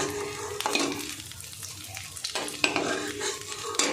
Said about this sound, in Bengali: সবগুলো বড়া ভেজে নেব।